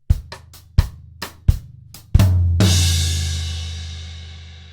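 A drum kit plays bar 14 of a Trinity College London Grade 4 piece, with crisp accented cross sticks over kick beats, then a loud crash ringing out and slowly decaying.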